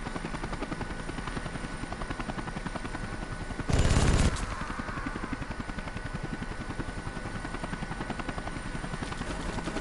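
A CH-47 Chinook helicopter drones in the video game Air Conflicts Vietnam with a steady rotor thrum throughout, and a brief loud burst of gunfire cuts in briefly partway.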